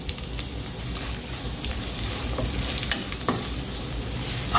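Onions fry and get stirred in a pan for a mutton biryani masala, giving a close, constant crackling sizzle broken by occasional scraping spatula strokes, with no voices.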